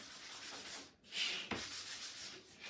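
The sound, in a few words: sanding wood with 220 grit sandpaper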